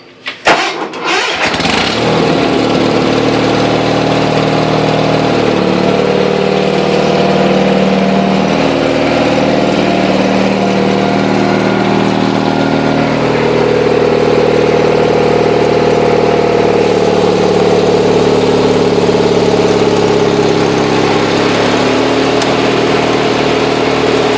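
A tractor fitted with a snow blower attachment starts with a brief cranking burst, then settles into a loud, steady engine drone that continues unbroken at close range with no talking.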